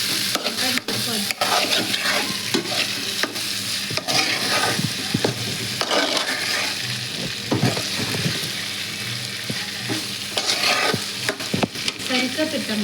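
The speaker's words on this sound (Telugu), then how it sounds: "టమాటా ఉల్లిపాయ మగ్గిపోయి వేసుకుంటే వంకాయ మగ్గిపోద్ది." Eggplant curry with tomato, onion and dry fish cooks in a pan, with loud, continuous sizzling close by and frequent scraping stirs and clatter throughout.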